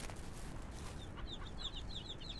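Chickens on a farm in the video game Ranch Simulator cluck in quick, high, repeated bursts in the second half, faint over a steady low background ambience.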